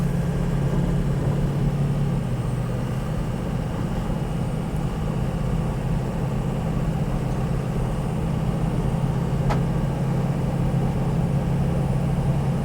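2005 Ford Excursion Limited with a 6.0L Powerstroke diesel driving and shifting, a steady low engine drone heard from inside the cab, continuous and even.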